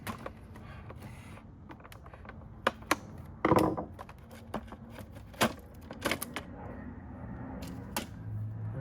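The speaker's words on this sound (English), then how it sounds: "Just going to undo the sole plate." A Dyson DC07 upright vacuum has its sole plate undone: sharp plastic clicks, snaps and a brief scraping rattle heard close in a quiet room, scattered irregularly with pauses.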